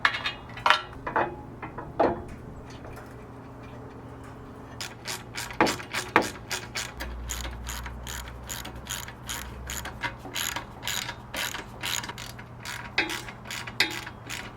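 Roof rack brackets on an 80 Series Land Cruiser being tightened with a ratchet, rapid bursts of clicking pawl strokes, sparse at first then quicker and denser, close with light metallic clanks and no talk.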